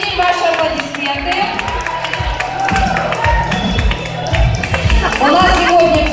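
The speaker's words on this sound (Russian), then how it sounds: "ваши аплодисменты" Audience applause for a singing contest winner at a concert event in a House of Culture in Bender, a dense crowd clapping and cheering continuously in a reverberant hall, steady throughout with background voices mixed in.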